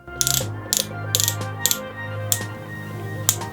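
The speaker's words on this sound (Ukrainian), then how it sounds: "Регулювання крутного моменту працює також з чіткою такою фіксацією." The torque adjustment clutch on a GRAND DA-20/13UBL cordless drill-driver is turned through its settings, giving a series of sharp, close ratcheting clicks at an uneven pace over a low hum.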